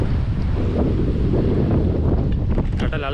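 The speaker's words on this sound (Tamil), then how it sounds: "கடல் அலைகள்" Sea waves surge near the Pamban bridge between Pamban and Mandapam, heard as a loud, continuous roar of surf mixed with heavy wind buffeting the microphone.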